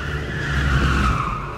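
A Land Rover drifts around a race track, tires skidding and squealing in a steady, loud smear of sound over engine noise, with no talk.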